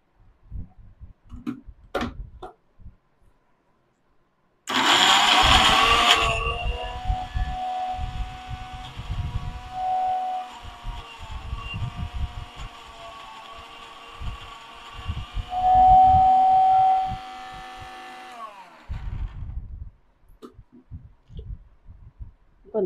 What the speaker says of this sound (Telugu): ఇది ఒకసారి మళ్ళీ మిక్సీ పట్టుకుందాం.